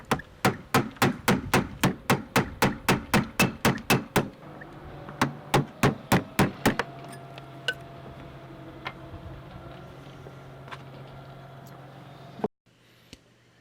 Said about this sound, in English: Punch out the upper locking pin.